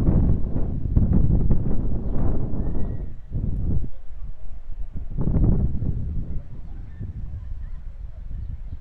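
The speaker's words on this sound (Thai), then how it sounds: "ลมแรงมากเลย" Strong wind gusting outdoors in the French countryside, buffeting the microphone with loud, low rumbling bursts that rise and fall over several seconds, dipping briefly before surging again.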